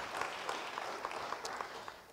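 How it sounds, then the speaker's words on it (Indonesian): A church congregation at an online Bible study service claps for the pastor, a faint, distant wash of applause with a few sharper individual claps. "Beri tepuk tangan bagi dia."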